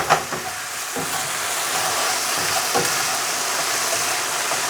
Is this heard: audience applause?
no